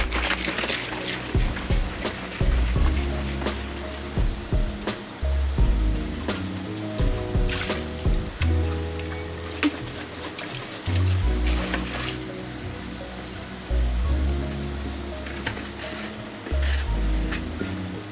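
A koi pond filter system runs with water flowing through it, a steady continuous wash and trickle close by, with intermittent louder splashes and surges.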